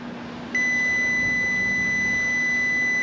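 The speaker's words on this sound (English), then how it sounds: "And as the oil fills up, the beeper shuts off." Low oil warning beeper on a Yamaha 115hp two-stroke outboard, a steady high-pitched electronic tone that switches on abruptly and holds continuously over a faint background hum.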